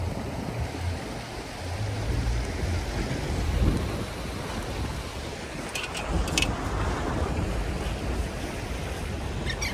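Sea waves on the coast wash in as a steady, broad roar of surf and wind, with no speech over it.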